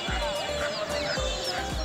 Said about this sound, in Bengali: সাথে আপনারা মুরগির ছোট ছোট বাচ্চা পেয়ে যাবেন